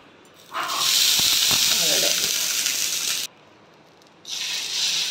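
Dosa batter poured into an oiled pan on the stove sizzles and hisses loudly and steadily for a few seconds, cuts out briefly, then resumes at a slightly lower level.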